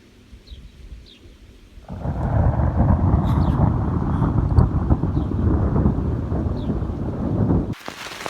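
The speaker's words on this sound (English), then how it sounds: "My whole tent is shaking. It's raining so hard." Heavy rain pounds on a tent during a thunderstorm, a dense, steady roar that surges in abruptly after a quieter start and holds loud and close for several seconds before cutting off.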